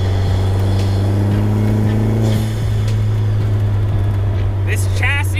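A 2019 Vanderhall Venice speedster with a 1.4-liter turbocharged GM engine and six-speed automatic drives along, its engine holding a loud steady hum close by, with a short whistle-like chirp near the end.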